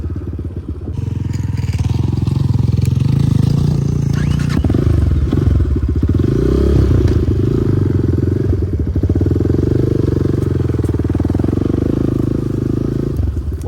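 A Kovi Advance 250 motorcycle engine drones loud and close while riding offroad uphill in a quarry, the revs rising and falling with rattling clatter throughout.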